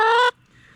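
A chicken gives one short, loud, nasal call close by at a homestead, then quiet ambient sound.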